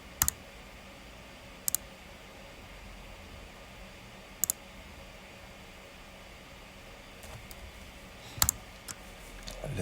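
Computer mouse clicking during Solidworks design work, a few sharp isolated clicks spaced seconds apart, close but faint over a steady low room hum, with no talking.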